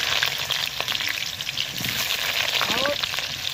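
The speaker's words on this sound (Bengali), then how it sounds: "তেলে আলু দিয়ে দেবো।" Drained potatoes drop into hot oil for a Bengali rohu fish biryani, a dense close sizzle and crackle that holds steady throughout, with a few brief clanks of a utensil against the pan.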